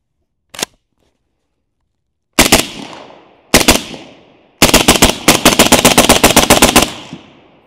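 Suppressed rifle shots through a SilencerCo Chimera suppressor: one sharp shot, then a pause, two more single shots, and finally a rapid string of about fifteen closely spaced shots, each a loud crack with a short decaying tail.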